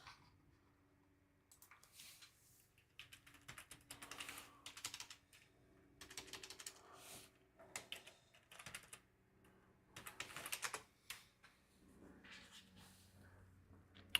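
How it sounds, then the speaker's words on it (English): Typing on a computer keyboard, heard as bursts of quick, light close clicks broken by short pauses, fairly quiet in a still room. "let me type this in."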